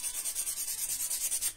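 Hand sanding on a small hard piece for a capybara craft, with a quick, even rhythm of about a dozen scratchy back-and-forth strokes, close and fairly quiet, with no voices.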